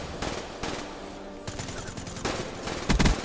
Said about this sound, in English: Why are you guys shooting randomly?